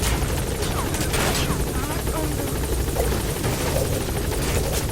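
Helicopter in the video game Metal Gear Solid V, a steady loud rotor whir and roar running throughout, mixed with scattered gunfire-like bursts and game effects.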